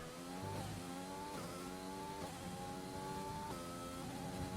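F1 2020 video game race car at the French Grand Prix running down a very long straight, a continuous high engine whine climbing in pitch through several rapid upshifts, steady and moderately loud.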